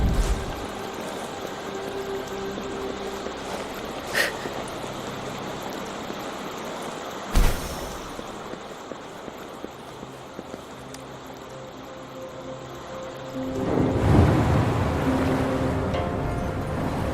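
Water drains away with a steady rushing wash as the level drops in the Wuthering Waves video game, over a low ambient hum, with a brief splash and a louder surging gush near the end.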